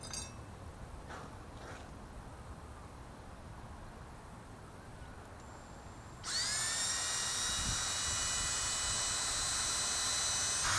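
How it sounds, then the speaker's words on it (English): A power drill boring pilot holes in a plywood molding box starts after about six seconds of quiet room tone, then whines loudly and steadily without pause to the end. "I'm going to find some way to drill the pilot holes for these and attach them with screws"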